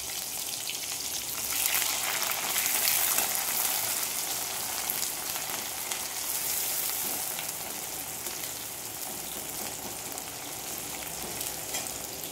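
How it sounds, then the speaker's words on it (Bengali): Chopped onions frying in hot oil with bay leaf and dried chilli for a chicken curry, giving a steady, close, dense sizzle that runs on without a break and swells slightly near the start. "কুচিয়ে রাখা পেঁয়াজগুলো ভালো করে ভেজে নেব"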